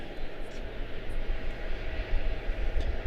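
Propeller airliner departing Charlotte-Douglas International Airport, a loud steady engine drone with a low rumble throughout, fairly close, with faint voices in the background.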